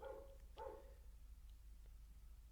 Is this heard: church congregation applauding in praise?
no